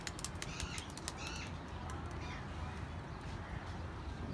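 Bursts of wing flapping as pet pigeons are released and take off, quick fluttering beats over a low background rumble, fairly close.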